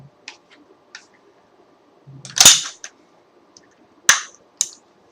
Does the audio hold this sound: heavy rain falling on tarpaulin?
no